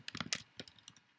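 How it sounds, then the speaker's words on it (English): A web address is typed on a computer keyboard, a quick irregular run of faint, close keystroke clicks followed by a few spaced taps. "You then want to type in"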